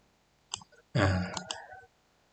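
A computer mouse clicks a few times in quick succession, light crisp taps close by against a quiet background.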